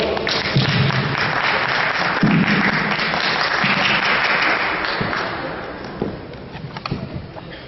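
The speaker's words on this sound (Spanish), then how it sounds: "Vamos a recibirlo con un fuerte aplauso." Audience applause welcoming a speaker at a scale-modelling conference held by a static model club in Puebla, a steady broadband clatter of many hands that holds for several seconds, then thins out into a few scattered claps near the end.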